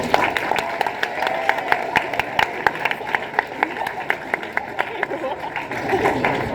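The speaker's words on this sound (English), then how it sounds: "Please give them a big round of applause and a rousing Acton High School Bearcat welcome." A high school audience claps to welcome candidates before an all-candidates debate, with distinct individual claps standing out over crowd chatter and murmur at moderate loudness.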